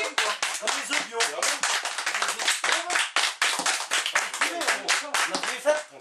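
Audience on a French quiz-show parody breaks into brisk, steady clapping, with voices talking over it throughout.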